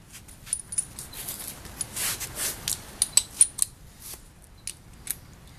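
A wrench cracks loose the bolts on a service cover, a series of faint metallic clicks and ratcheting snaps spaced irregularly, quiet and close with no talking.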